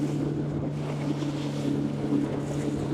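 Highfield 560 Sport RIB running at 24 knots through wind-driven choppy waves along a beach, a steady outboard drone under heavy wind buffeting and rushing water, loud and continuous.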